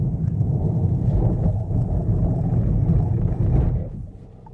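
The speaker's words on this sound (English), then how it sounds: "Careful, hard braking from 100 to 0" Renault Espace 2025 braking hard from 100 km/h, a loud rumbling road and tyre roar inside the car that holds steady, then drops off sharply as the car comes to a stop.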